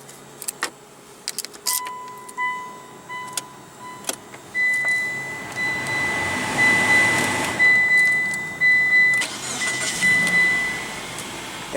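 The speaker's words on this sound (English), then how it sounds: "And what you're hearing is a 2-liter 4-cylinder engine." A Mitsubishi Outlander Sport's 2-liter four-cylinder engine runs at a steady low idle, heard from inside the cabin, with scattered clicks, key jangles and short electronic chime tones on top.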